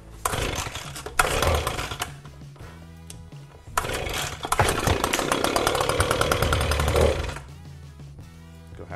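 An ECHO PB-250 leaf blower's small two-stroke engine is pulled over, sputters, catches and revs up loud and raspy, then drops back toward a rough idle, heard up close indoors.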